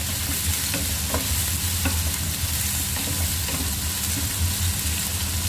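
Onions sauté in a pan, producing a dense, continuous sizzle with faint scraping stirs underneath and a low steady hum, close and even throughout.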